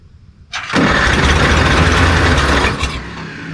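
A 1949 Farmall Cub tractor engine cranks briefly, then catches and runs at a loud, steady, close rumble that eases off slightly at the end.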